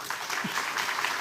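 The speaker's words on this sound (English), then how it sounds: "please, a great applause for the splendid team at CAPRI" Conference attendees at CAPRI applaud the organizing team in a brief, steady burst of many hands clapping at once, moderately loud throughout.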